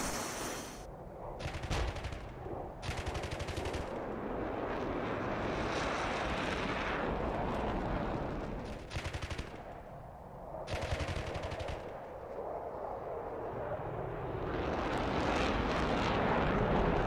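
Sustained machine-gun fire during an aircraft attack by French Mirage F1 jets on insurgent technicals in Chad, loud rapid bursts with brief pauses over a continuous roar, no talk.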